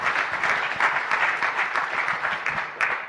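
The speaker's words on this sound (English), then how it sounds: "give ourselves a big round of applause for the successful." A conference hall full of delegates applauds at an annual university conference, a loud, continuous wash of many hands clapping at once with no voices over it.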